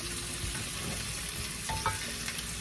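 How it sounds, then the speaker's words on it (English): Beef and vegetables for osso buco sizzle and fry in a pot, a steady crackling hiss with light stirring scrapes, fairly quiet and without talk. "So I'm gonna add the beef. The vegetables."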